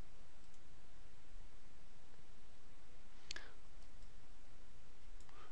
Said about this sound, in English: click on the axis using the left mouse button, right mouse click